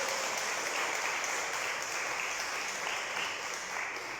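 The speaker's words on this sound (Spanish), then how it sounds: "¿Alguien le da un aplauso al Señor," Sustained applause from a church congregation fills the room, an even, continuous wash of clapping at moderate distance with no pauses.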